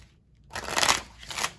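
A deck of tarot cards being shuffled during a spirit reading, a soft papery riffle that builds after a quiet start, with two bursts of shuffling close to the microphone.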